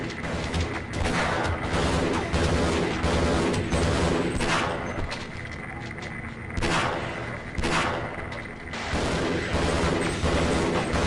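Continuous heavy gunfire in the video game Half-Life, dense rapid shots and booming blasts filling the mix loudly, with brief pauses between bursts and no speech.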